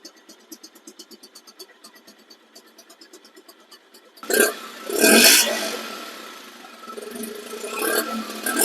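A second-hand Bajaj Pulsar motorcycle in showroom condition runs close by, first with a soft, steady pulsing idle, then a few loud throttle blips that swell into a rougher, louder running note.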